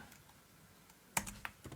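Computer keyboard typing while Python code is entered: quiet at first, then a short cluster of sharp, close key clicks in the final second.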